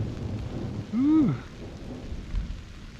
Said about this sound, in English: A late afternoon thunderstorm.